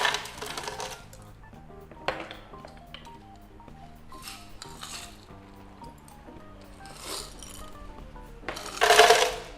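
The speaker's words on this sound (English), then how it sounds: "Into our blender, let's put our 1 cup of ice." A cup of ice cubes drops into a blender jar for a coffee frappe, a loose series of hard clattering knocks and rattles with a louder tumbling clatter near the end.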